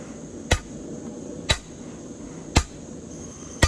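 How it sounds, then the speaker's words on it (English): Four heavy hammer blows on hot steel while forging a war hammer, evenly spaced about a second apart, each a sharp loud ringing strike over a steady background roar of forge noise. "Find it very therapeutic doing big hammer work."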